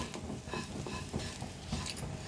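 Dry baby shrimp chutney stirred and sautéed in a pan over a low flame, giving a soft continuous scraping and faint sizzle with light spoon-against-pan clinks at a steady pace.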